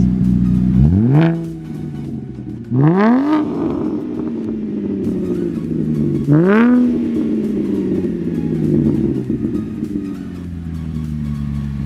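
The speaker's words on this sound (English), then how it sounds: "I'm not touching the car, it's revving up on its own." A Holden V6 car engine revs up three times on its own, each rising sharply in pitch before easing back down to a steady idle drone.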